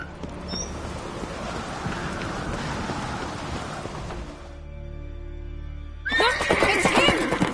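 A horse in The Witcher III: Wild Hunt gives a loud, close whinny near the end, following a stretch of steady rumbling game ambience with the scrape of hooves.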